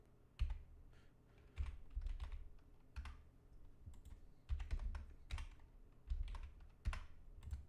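Computer keyboard clicking during live stock trading, bursts of key presses in irregular clusters, close and fairly quiet, with no talking.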